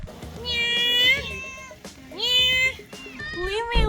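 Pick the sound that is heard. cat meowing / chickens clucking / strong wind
cat meowing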